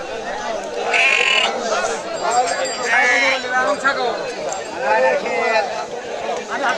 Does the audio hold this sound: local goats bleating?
yes